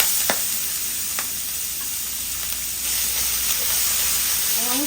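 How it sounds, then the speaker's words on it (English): Onions cooking down in a pan for a pasta sauce give a steady broad sizzle, with a few brief clinks of utensils and a faint sweep near the end. No voices are heard. "We're going to cook our onions down until they become slightly translucent."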